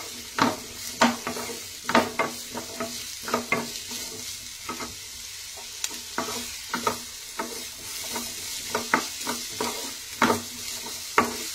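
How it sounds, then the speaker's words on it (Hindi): Onions frying in a pan until golden brown and soft, a steady sizzle broken by loud, repeated scrapes and clatters of a spoon stirring against the pan, close and clear with no talking. "प्याज को अच्छे से गोल्डन ब्राउन होने तक, जब तक ये सॉफ्ट हो जाए तब तक इसे भूनना है।"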